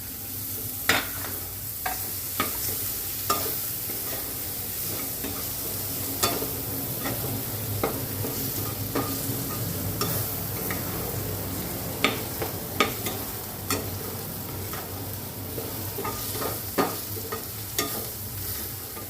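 Masala for sukka chicken being sautéed and stirred in a pan, a steady close sizzle with repeated sharp spoon scrapes and knocks throughout, no talking.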